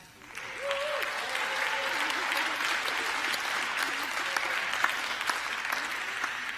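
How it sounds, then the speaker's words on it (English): Conference audience applauding at a wrap-up session, a dense, steady wash of clapping that rises quickly at the start and continues evenly throughout, with a few brief voices under it. "he deserves the applause for last night's incredible party."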